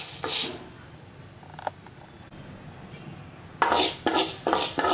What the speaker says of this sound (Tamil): ஃப்ளாக் சீட்ஸ் நம்ம கொஞ்சம் வறுத்துக்கலாம்